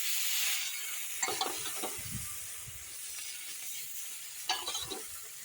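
Small river fish frying in a pan of hot oil, a steady close sizzle broken by a few louder crackling bursts as pieces are turned or added, with no talking.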